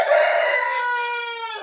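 A rooster at a poultry stable crows once, a loud, close, drawn-out call that rises and trails off over a couple of seconds.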